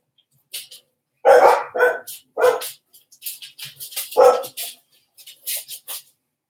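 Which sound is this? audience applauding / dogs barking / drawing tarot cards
dogs barking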